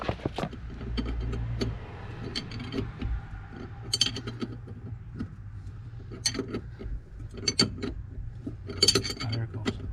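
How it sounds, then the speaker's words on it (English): Bilstein strut top nut being tightened on a 2016 Winnebago View 3500 Sprinter chassis, with scattered metallic clicks and ratchet-like ticks over a low steady hum, close and moderately loud. "now we need to tighten the nut inside"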